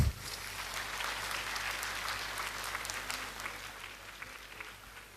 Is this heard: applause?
yes